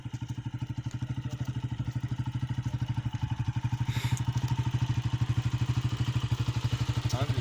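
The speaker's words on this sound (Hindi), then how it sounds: "बंद कर दे मोटरसाइकिल" A motorcycle engine idles steadily at close range during night-time wheat binding work, a rapid even low thumping that continues throughout with slight clatter and a faint voice in the background.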